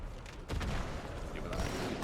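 A grenade in Halo 2 Anniversary goes off as a loud burst of booming blasts and gunfire, with heavy layered explosions over continuous game noise.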